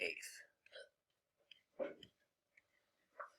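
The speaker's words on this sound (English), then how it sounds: "Peanut butter cures the hiccups in my house." Several short, sharp hiccups scattered through a quiet classroom setting, each an abrupt vocal catch separated by silence, close and fairly clear.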